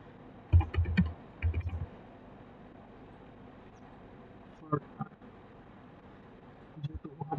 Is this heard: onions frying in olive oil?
no